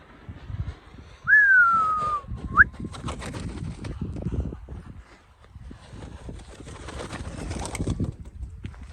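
A whistled call sweeps down then up early on, followed by soft rustling, fluttering and faint cooing-like murmurs from pigeons nearby at a pigeon loft in Adana, Turkey.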